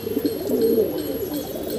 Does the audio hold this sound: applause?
no